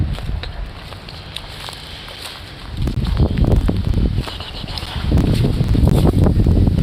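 Cold wind gusts outdoors, a broad rushing roar that rises and swells loudly in waves with rustling and buffeting, no one speaking.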